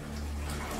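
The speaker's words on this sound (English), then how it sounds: "Why is the roof flooding?" Water gushing through a roof from a burst pipe in a video game, a loud continuous rushing pour with a low steady hum beneath, no voices.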